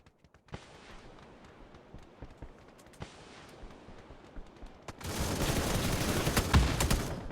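Gunfire from a machine gun in the battle royale game New State Mobile, with rapid bursts of shots, loudest and densest in a heavy volley near the end.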